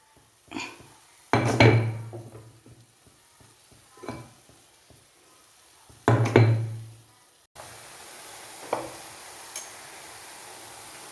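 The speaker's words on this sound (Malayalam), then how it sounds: "അരച്ച മിക്സിയുടെ ജാറിനകത്ത് അല്പം തേങ്ങ കൂടി ഇതിനകത്തേക്ക് ഒന്ന് വടിച്ചിടാനുണ്ട്" Ground coconut being scraped out of a mixer grinder jar into a pan for radish thoran, heard as several separate knocks and scrapes of a spoon against the jar, with pauses in between.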